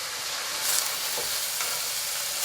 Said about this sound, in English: And I'm now adding the bay leaf and the dry ingredients.